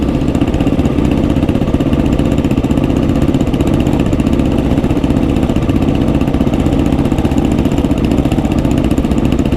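Several Suzuki DRZ 400 dirt bikes and big 640 trail bikes ride past on a high-country track, their engines droning loud and steady for the whole stretch with a constant low rumble and no pauses.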